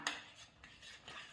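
Sticky homemade slime is stirred and squished in a bowl, giving soft, quiet wet rubbing and clicking textures that recur in a few short pulses.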